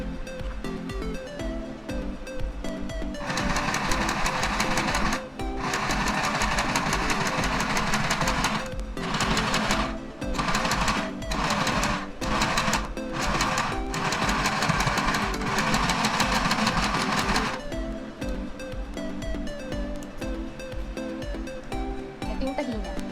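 A mini sewing machine run by foot pedal stitches in loud, steady mechanical bursts, with short pauses between runs of fast needle clatter, close up and alone.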